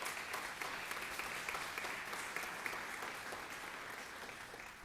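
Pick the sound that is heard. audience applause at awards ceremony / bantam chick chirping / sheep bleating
audience applause at awards ceremony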